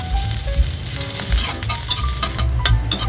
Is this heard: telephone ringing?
no